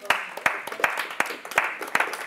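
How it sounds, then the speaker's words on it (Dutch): A small group of audience members at a Dutch entertainment show clapping hands, sharp, irregular close claps repeating through a short burst of applause. "Even een uitbundig applaus voor onze Wilfred."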